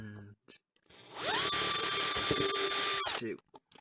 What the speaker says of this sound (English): I'm just gonna try and put 2 drill holes in one